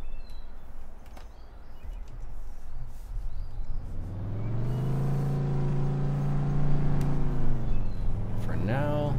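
A truck engine in Farming Simulator 15 idles low, then swells into a steady, rising drone from mid-clip onward, with a brief higher whine near the end.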